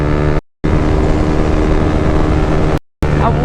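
A KTM 390 Duke motorcycle engine roars at wide open throttle on the highway, loud and sustained with heavy wind rush, cut by two short gaps of silence.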